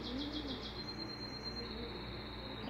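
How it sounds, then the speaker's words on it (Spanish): A startled dove or pigeon calls faintly outdoors, with short chirping notes over a steady hum of insects and background noise. "La paloma está asustada con algo arriba ahí."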